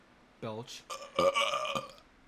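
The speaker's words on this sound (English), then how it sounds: "took a sip from his flask, letting out an appreciative belch" A drawn-out, appreciative belch after a sip of liquor from a flask, close and voiced, sliding into a gravelly, vocal tail.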